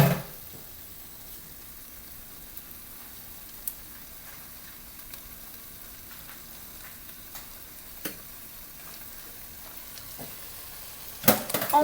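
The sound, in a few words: stirring flour into frying onions for onion soup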